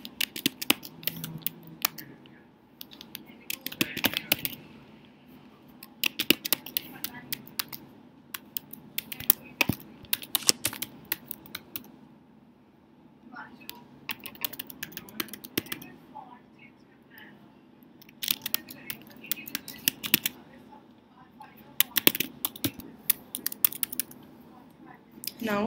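Typing on a computer keyboard while entering details into a web form: quiet, close, irregular bursts of light key clicks separated by short pauses, with faint background hum and no talk throughout.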